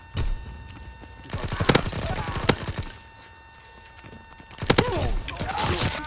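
Bursts of rapid automatic gunfire from Call of Duty: WWII come in two clusters separated by a quieter gap, loud and close, with mechanical clatter between the volleys.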